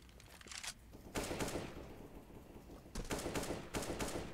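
Gunfire in the game CS:GO, several loud bursts of automatic shots separated by brief lulls, close and sharp, with no talk over it.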